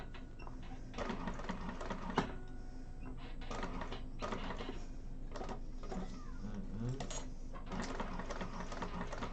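A freshly oiled sewing machine runs in bursts with a whirring mechanical chatter, some clicks and handling knocks between, fairly quiet and close in a room.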